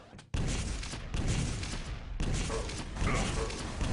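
Rocket fire in a Quake duel between Cooller and Evil in a 125 FPS semi-final: a run of loud, close explosive blasts, one after another, with dense crackling impacts filling the gaps.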